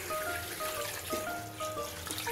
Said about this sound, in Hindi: और इसमें हम डालेंगे पानी।